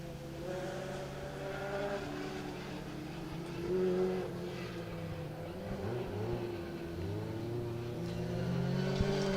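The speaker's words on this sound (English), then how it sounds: "in the RS2000 Escort passing us by here" A Ford RS2000 Escort rally car passes on a forest rally stage, its engine note rising and falling through revs and gear changes, a steady distant-to-near drone that swells and fades again.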